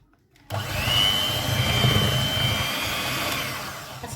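An electric mixer or grinder whirs to life and runs steadily, blending cake batter of sugar, flour and milk, a loud continuous motor drone that starts abruptly and holds without talk.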